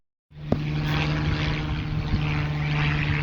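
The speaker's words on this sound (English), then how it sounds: "Planes flying in there" A propeller plane passes overhead near Newcastle airport, its engine drone starting abruptly and holding loud and steady with a low humming tone throughout.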